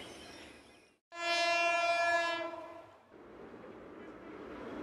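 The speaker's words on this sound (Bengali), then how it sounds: "ট্রেন আসছে" A loud, sustained train horn blasts for over a second over rumbling rail noise, then fades back into the low clatter of the approaching train.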